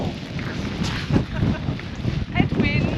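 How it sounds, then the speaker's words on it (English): Strong, wet headwind gusts buffet outdoors on the Monsal Trail in Derbyshire, a loud, continuous rushing roar with surging peaks, close to the microphone. "it's rather windy and wet."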